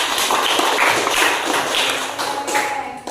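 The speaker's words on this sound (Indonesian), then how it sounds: "tepuk tangan untuk kita semua" Schoolchildren clap together in a classroom, a dense rattle of many hands with a few stronger accented claps near the end, close and steady.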